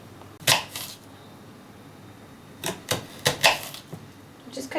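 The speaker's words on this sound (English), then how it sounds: "Just cut your onion up into small pieces, lengthwise" A knife chops a red onion into small pieces on a board, a single sharp cut followed after a pause by a quick cluster of close, crisp chops.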